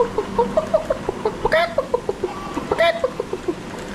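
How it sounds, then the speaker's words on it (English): Chickens cluck in short, rhythmic bursts inside the video game Forza Horizon 5, repeating steadily over about four seconds with a couple of louder, sharper squawks mixed in. "Oh, Chacha got some nice chickens."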